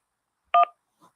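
Telephone keypad DTMF tone accepting an incoming call, a single short clean dual-tone beep, close and clear, followed by a faint brief sound in silence.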